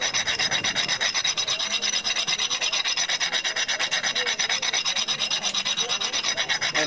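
A blade edge is ground on a carburetor wheel at a Daniel Boone Day demonstration, a steady rapid rasping scrape repeating evenly and continuously at close range with no voices.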